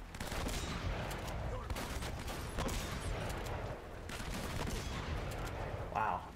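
Rapid video-game gunfire from Uncharted, dense overlapping shots and bursts filling the whole stretch, loud and continuous with a brief sharp burst near the end.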